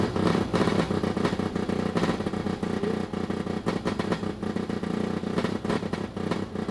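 A race car engine (Formula Mazda) sputters and fires unevenly, with rough pops and clattering bursts over a loud, continuous mechanical drone.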